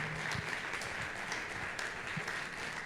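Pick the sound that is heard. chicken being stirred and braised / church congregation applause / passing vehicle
church congregation applause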